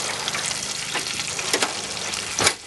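Chicken frying in hot oil, a close, dense crackling sizzle with a few louder pops and spatters rising toward the end, with no voices.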